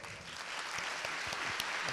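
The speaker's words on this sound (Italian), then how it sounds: "vi pregherei di fare davvero una, eh, un grande applauso a Aldo Cazzullo" Audience applause at an Italian book presentation greeting journalist Aldo Cazzullo, a steady dense wash of many hands clapping at moderate level throughout, with a faint voice briefly underneath.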